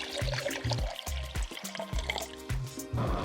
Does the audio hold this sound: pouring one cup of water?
yes